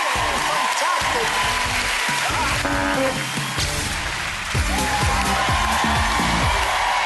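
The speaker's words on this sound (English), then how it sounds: "will you give Holly Willoughby a big round of applause?" Studio audience applause for Holly Willoughby on a Saturday-night entertainment show, loud and continuous clapping with whoops throughout, mixed with voices and music.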